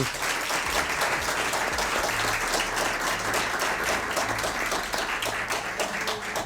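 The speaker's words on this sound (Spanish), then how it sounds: "Un fuerte aplauso para él." Strong, sustained applause from a live audience at a SER Historia radio event in Gijón, honouring the sound technician: loud, dense clapping that stays level throughout over a low hum.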